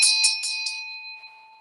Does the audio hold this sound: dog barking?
no